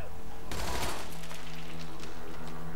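Rapid bursts of machine gun fire in the video game Army of Two: The Devil's Cartel crackle over a constant background hum, dense at first and then trailing off into scattered pops.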